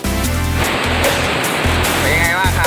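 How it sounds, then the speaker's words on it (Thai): Waterfall at Tad Kham Pom, Ban Na Khae, a steady loud roar of falling water filling the whole clip, with someone talking over it throughout. "เป็นยังไงบ้างครับสำหรับน้ำตกนะครับที่นี่นะครับตาดขามป้อมนะครับ"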